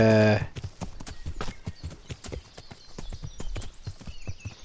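Horse hooves clopping at a quick, regular gait while riding in the medieval game Kingdom Come: Deliverance, with a brief tonal sound at the very start.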